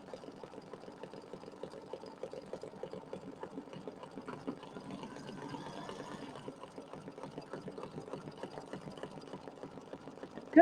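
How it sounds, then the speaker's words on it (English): A domestic sewing machine runs steadily with a fast, even mechanical hum and needle clatter, stitching a triple stitch to tack down vinyl on a quilt square, heard up close and alone. "it's going to sew and it's going to do kind of a triple stitch. And it's going to tack down my vinyl"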